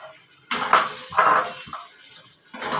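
Fried eggplant being stirred together with spices in a cooking pan, a few clattering scrapes and clinks of a utensil against the metal, moderately close and without talk.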